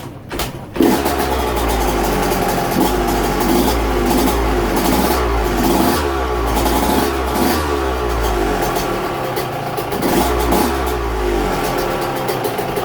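A Yamaha YZ125 two-stroke dirt bike engine, freshly fitted with tank, seat and silencer, fires up on its very first start and keeps running steadily, loud and close, with a buzzing idle throughout.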